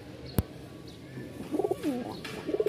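Giribaz pigeons coo softly in short repeated bursts, fairly close but quiet, after a sharp brief click near the start.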